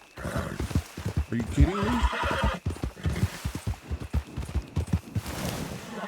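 Video-game horse whinnying loudly, with steady clip-clop of hooves throughout, as someone talks over it.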